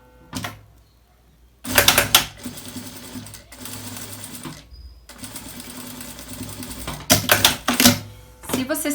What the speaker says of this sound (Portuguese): Vou fazer uma costurinha aqui, segurando, né, a minha renda na minha peça.